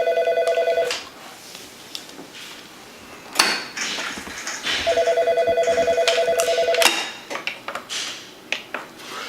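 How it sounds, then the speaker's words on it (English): A landline telephone ringing in a home in two bursts of steady electronic tone separated by a pause, then followed by clicks and handling clatter as the handset is picked up. "I'm able to answer the phone."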